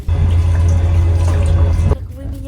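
Water splashes and pours over a person indoors, a loud steady wash of liquid for about two seconds that cuts off abruptly, followed by quieter room sound.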